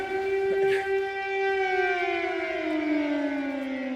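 A civil defense air raid siren wails in Kharkiv at a train station, one long steady tone that slowly glides downward, loud and close with no talk over it.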